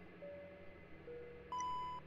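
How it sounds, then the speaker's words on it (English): A steady electronic cockpit warning tone from a Dash 8 Q400 in a flight simulator sounds near the end, loud and sustained over a quiet mechanical hum, with fainter tones earlier. "the plane is just beeping at me like mad"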